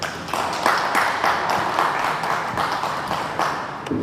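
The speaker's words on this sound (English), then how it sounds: "Can we please give him a round of applause?" Applause for a speaker from the Human Rights and Justice Committee of the Pan-African Parliament at a panel discussion, a steady wash of many hands clapping in a conference room, sustained for several seconds at moderate loudness.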